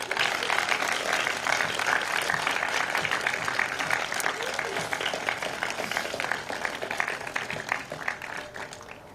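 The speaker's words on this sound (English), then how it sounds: "The class will now extend a round of applause as a gesture of thanks." A graduating high school class at a Vermont commencement applauds their parents and families, a steady wash of many hands clapping at moderate distance, fairly even throughout with faint crowd murmur beneath.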